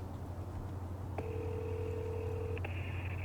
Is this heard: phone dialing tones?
yes